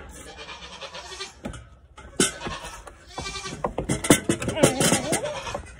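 Nigerian Dwarf goats bleat repeatedly in short, loud cries during milking, some close by, with scattered clatter and movement noises between the calls.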